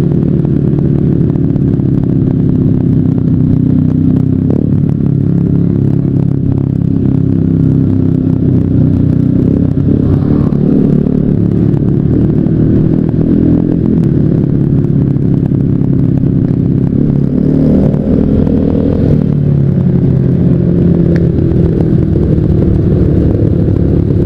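A motorcycle rides a mountain road from Gunung Luhur toward Jasinga, its engine droning loud and continuous throughout with rumbling wind and road noise and slight rises in revs, heard up close.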